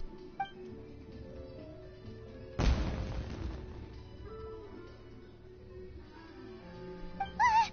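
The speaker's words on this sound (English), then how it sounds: "Was that an explosion? It sounded like fireworks." A fireworks explosion goes off in the video game Genshin Impact as one sharp, loud burst with a crackling, fading tail, set against soft background game music.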